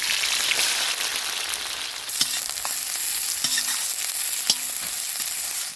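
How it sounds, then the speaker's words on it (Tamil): Onions sautéing in a pan with whole spices for egg vermicelli biryani, a steady close sizzle and crackle with occasional stirring scrapes, no talk. "வெங்காயம் நல்லா பொன்னிறமாக வர வரைக்கும் நல்லா வதக்கிக்கலாம்"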